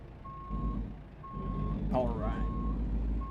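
A truck's reversing alarm beeps repeatedly in a driving simulator game, steady evenly spaced tones over a low engine hum while someone speaks briefly.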